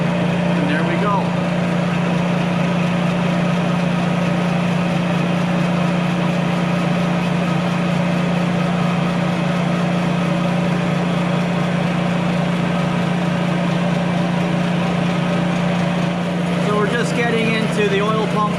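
A milling machine facing the deck of a Toyota engine block, with a loud, continuous droning hum and a steady low tone throughout, close up, with faint higher scraping near the end.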